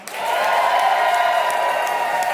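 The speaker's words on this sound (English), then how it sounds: "please make some noise if the person you want to advance is Spenny Pugliano." A comedy club audience at a New York one-liner contest breaks into loud, sustained applause and cheering to vote for a comedian, a dense and even roar of clapping and whoops.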